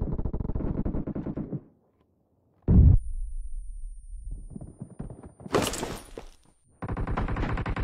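Video game gunfire in BGMI: rapid automatic bursts at the start, a sharp heavy shot, then a noisy burst and another run of fast firing, with short quiet gaps between them.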